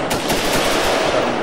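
Rapid automatic gunfire from Insurgency crackles loud and close, a continuous burst of shots running through the whole moment with no talk over it.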